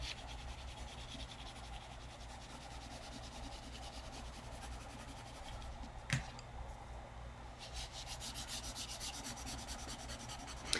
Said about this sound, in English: I'm going to put a little bit of graphite in here just so that it's not completely white of the paper.